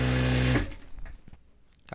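Electric sewing machine running a steady, close whirring stitch along salwar fabric for about half a second, then stopping and leaving faint handling noises.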